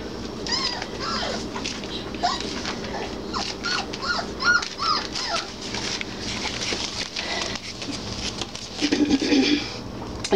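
Three-week-old Basset Hound puppies whimper and yip in a string of high, thin cries and squeaks, close by and fairly soft over a low background murmur.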